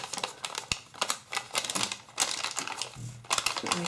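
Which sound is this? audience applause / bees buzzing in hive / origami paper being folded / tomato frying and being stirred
origami paper being folded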